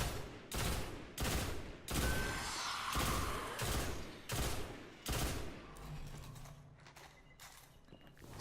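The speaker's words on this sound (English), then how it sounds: "Red Death also has a very unique sound to it. It has kind of a cracking, it almost sounds like cracking of bones" Red Death pulse rifle in the Destiny video game fires sharp, bone-cracking bursts in a rapid repeating rhythm, several volleys spaced about a second apart, fairly faint, trailing off into softer scattered shots.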